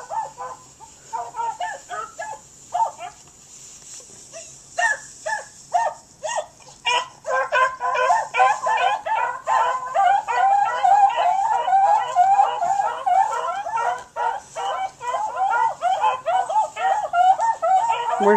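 Several dogs bark and howl outdoors in a steady, overlapping chorus that builds and stays loud, with people talking over them at times.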